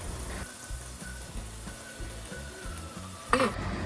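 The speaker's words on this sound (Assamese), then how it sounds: "আমি 2টা মিডিয়াম চাইজৰ আলু অলপমান ডাঙৰ ডাঙৰ পিচ কৰি কাটি ইয়াত মিহলি কৰি দিছোঁ" Two medium-sized potatoes cut into large pieces are stirred into masala frying in oil for a soybean curry, giving a steady close sizzle under soft stirring scrapes and a sharper clank of the utensil near the end.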